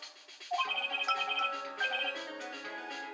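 A phone rings in a short melodic electronic ringtone, a repeating tune that starts abruptly and plays on at moderate volume, alone.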